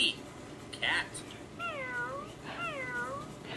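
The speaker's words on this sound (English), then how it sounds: "That's a kitty cat." A cat meows twice at close range, each call a clear, drawn-out falling tone, with short bursts of a person's voice just before and between the calls.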